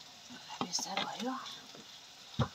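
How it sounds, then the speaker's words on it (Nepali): Mushrooms and potatoes frying in a pan give a soft, faint sizzle with a few stirring scrapes and clinks near the close. "एकछिनलाई भुट्छु मजाले"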